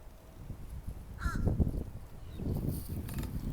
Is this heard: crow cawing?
yes